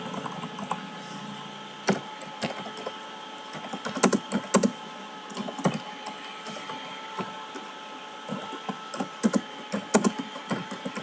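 Keys clack on a computer keyboard in short, irregular bursts, close up and distinct, with brief pauses between runs of keystrokes and no talking.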